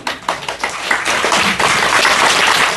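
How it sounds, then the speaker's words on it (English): A monk claps his hands in quick, irregular bursts of sharp, close slaps that run almost continuously, with no talking. "Why do you think the monk is clapping like that?"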